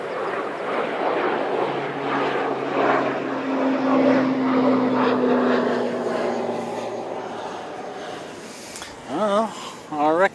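Airbus A380 airliner taking off at Christchurch Airport in gusty crosswinds: a loud, steady engine roar with a droning tonal hum that builds then fades, heard from a distance, with wavering whistles at the end.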